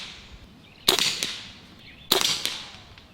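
Two sharp shots from a Barra 1100z Gen II air rifle, about a second apart, each a crisp crack followed by a brief snap of the pellet striking the target, loud and close, no voices.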